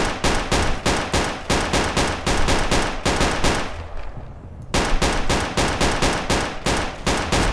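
An STG-44 fires full-auto in Roblox's Unit 1968, with loud, rapid bursts of crisp shots and a brief pause before the firing resumes.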